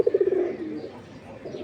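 Old-breed Giribaz pigeons give a close, clear burst of rolling coos, a quick pulsing series that fades into quieter room noise before a brief coo returns.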